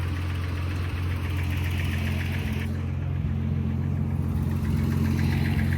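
A 1976 Datsun 280Z engine idles steadily up close with a low, even rumble and faint ticking, running continuously without revving.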